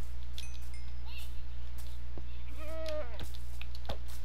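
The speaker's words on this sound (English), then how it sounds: "Mountain goats, you're dead." Mountain goats give a couple of wavering bleats in the middle distance over a steady low background hum, with scattered faint clicks and rustles around them.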